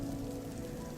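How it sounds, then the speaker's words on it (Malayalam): Heavy rain falls steadily on surfaces nearby, a dense, continuous patter at moderate loudness with no voices. "നല്ല മഴയാണ്"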